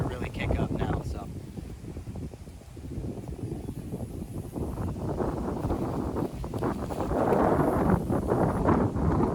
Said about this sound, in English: This wind is starting to really kick up now